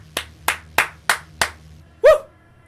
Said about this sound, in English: Round of applause, baby.